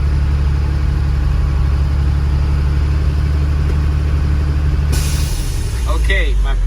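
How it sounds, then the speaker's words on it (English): A truck idles steadily up close while its air brake system builds to 120 psi, then the governor cuts off with a sudden hissing burst of air near the end, under a man's speech. "I reached maximum pressure, 120 psi, and I heard my governor cut off"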